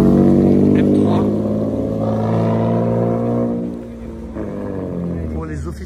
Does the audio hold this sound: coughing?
no